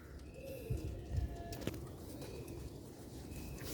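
Pigeons on a Sialkot rooftop cooing softly in low, repeated calls amid faint outdoor background noise, with a brief flutter or thump partway through.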